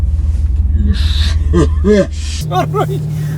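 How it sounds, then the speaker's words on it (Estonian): A Porsche 911 GTS engine fires up with a sudden shift into a deeper, steady idle rumble, while people nearby exclaim and talk over it. "Aga paneme auto käima."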